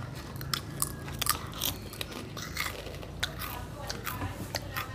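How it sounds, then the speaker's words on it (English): Sugar Crunch chips are eaten up close, giving soft, irregular crunches and chewing clicks over a murky background hum. "kumain kami ng Sugar Crunch chips"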